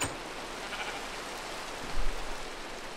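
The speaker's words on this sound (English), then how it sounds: "oh my gosh, it's downpouring." Steady downpour of rain in the Minecraft video game fills the scene as a dense, even hiss, fairly loud and unbroken, with a faint bleat-like sound briefly rising near the end.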